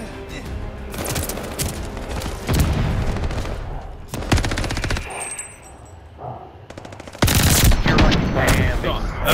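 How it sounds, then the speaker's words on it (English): Rapid bursts of automatic gunfire in a tactical shooter match, loud and close, with sharp repeated volleys separated by brief pauses and a voice talking faintly beneath. "Shots fired!"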